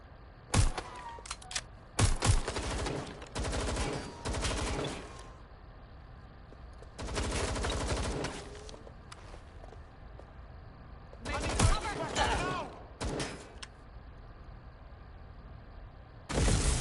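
Bursts of gunfire in the video game Watch Dogs Legion crackle in loud rapid volleys separated by quieter gaps, with a final burst at the end.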